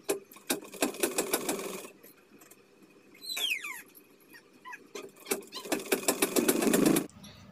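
A domestic sewing machine stitches down a blouse neck strip in short bursts of rapid rhythmic clatter, pausing in the middle where a faint squeak-like sound comes through, then running again close and steady.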